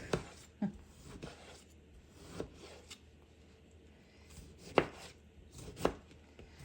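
A large tomato diced with a knife on a cutting board for veggie pizza: soft, irregular chopping taps, a few sharper knocks among quieter cuts, close and faint with no talking.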